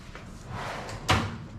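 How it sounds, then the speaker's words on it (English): A drawer slides and shuts with a single firm thump, close by, after a brief rumbling slide in a quiet room. "That's the drawer over there."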